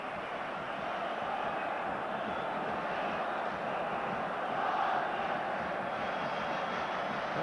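Steady broad roar of a football stadium crowd at a 1987 Scotland versus England Rous Cup match, a continuous wash of cheering noise at even loudness throughout, with no clear talk over it.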